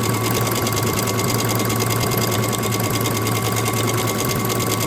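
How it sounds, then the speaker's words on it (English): A sewing machine top stitching a bag at about an eighth of an inch, running in a continuous fast rhythmic whir and clatter at close range, steady throughout with no talk. "I'm going to go ahead and top stitch at about 1/8 of an inch"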